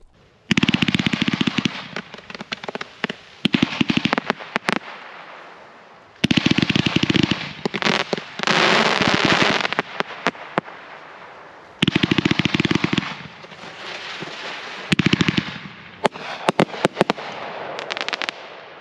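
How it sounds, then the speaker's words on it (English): A Skyfire fireworks cake fires rows of horsetail effects outdoors, loud rapid crackling volleys in several bursts separated by brief lulls, each burst a dense barrage of sharp pops. "that is a row of horsetails, which means this could be a really good cake to individually match the rows for a fireworks show"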